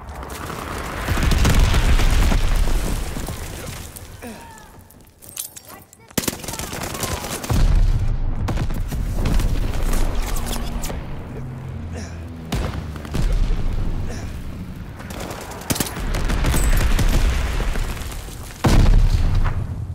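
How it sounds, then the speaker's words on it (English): A Call of Duty: Vanguard bombing run unleashes heavy booms, rumbling blasts and bursts of gunfire in a dense, loud battle scene, with in-game voices heard amid the chaos. "Teammate called a bombing run."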